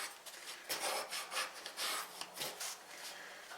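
A bone folder rubs paper flat onto a small chocolate gift box in a quiet, close, scratchy swishing of repeated short strokes.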